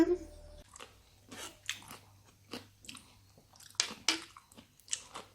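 Close, wet bites and chewing of Korean delivery food, seasoned fried chicken with rice, radish and onion, in irregular bursts of squishy crunching between quiet pauses, no talk.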